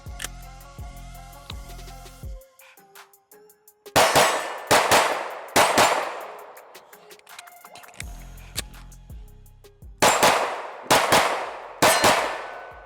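Sig P320 Flux Legion pistol fired in rapid strings at steel targets outdoors, sharp loud shots in quick bursts of two to three, each followed by a ringing metallic clang from the struck steel.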